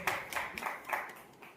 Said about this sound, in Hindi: जोरदार तालियों से अभिनंदन, तालियां बजती रहे